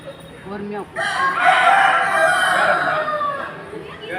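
A rooster crows loudly and close by in one long drawn-out call, with a short clucking sound just before it.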